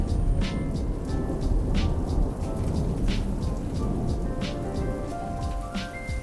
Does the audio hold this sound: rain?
yes